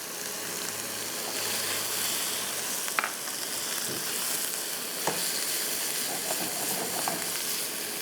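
Peas frying in a spiced masala give a steady, close sizzle that stays even throughout, with a few soft clinks and stirring scrapes breaking through now and then.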